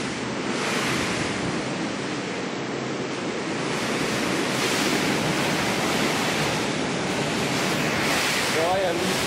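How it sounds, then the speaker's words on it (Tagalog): Heavy rain pours down outside a house as water floods into a room, a loud, unbroken rushing roar with wind buffeting the microphone throughout. "Ulan pala. Ulan. Pinasok ng tubig."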